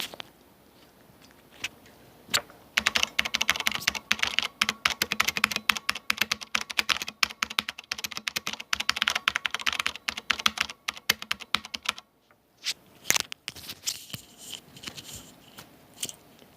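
A WASD CODE mechanical keyboard with Cherry MX Clear switches is typed on, a fast, dense run of crisp clicking keystrokes at moderate volume, then a brief pause followed by a few scattered presses.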